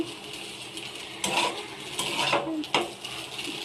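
Chowmein being stirred in a pan at home, with scraping metal-on-metal spatula strokes at irregular intervals over a low, steady sizzle, fairly close.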